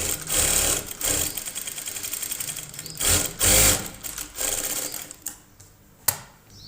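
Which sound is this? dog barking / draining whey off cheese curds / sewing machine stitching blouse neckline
sewing machine stitching blouse neckline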